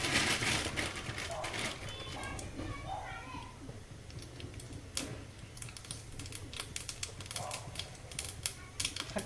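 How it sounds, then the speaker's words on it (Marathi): Dense, irregular crackling and popping of mustard seeds in hot oil, like rapid tiny clicks, with a voice murmuring faintly in the background. "मोहरी आता तडतडायला लागली"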